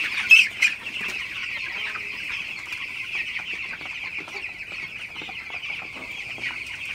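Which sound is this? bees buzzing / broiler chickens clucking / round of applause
broiler chickens clucking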